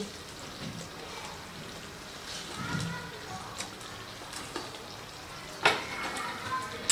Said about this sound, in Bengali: এটা ভালোভাবে ফুটে যাক। তো দেখুন এটা বেশ ফুটে গেছে, এবারে আমি এর মধ্যে বলগুলোকে দিয়ে দিচ্ছি।